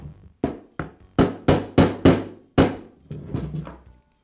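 Sharp hammer taps drive a roll pin through the housing of a Bostitch pneumatic nailer during a trigger valve repair, about eight crisp metallic strikes close up in an irregular rhythm with no talk.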